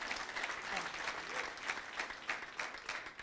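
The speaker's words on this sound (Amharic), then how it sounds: "አጨብጭቡላት ያቺ እናት ትባረክ" A church congregation applauding together, a dense, steady stretch of clapping with a rhythmic pulse, heard at moderate distance.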